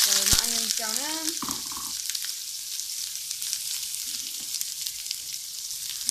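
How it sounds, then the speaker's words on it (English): Chopped onion hits a hot pan for a satay kumara curry and sizzles with a steady, close hiss that carries on after a brief stretch of talking at the start. "So my onion's going in."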